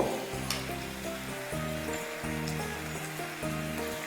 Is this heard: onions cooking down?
yes